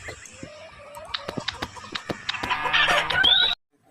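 A chicken clucks repeatedly up close in short bursts, rising into louder agitated squawks before stopping abruptly.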